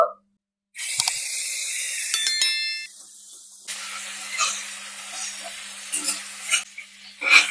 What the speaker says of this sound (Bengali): এবার এই চিংড়িগুলো আমি তেলের মধ্যে দিয়ে দিচ্ছি, এটা একটু ভেজে নেব।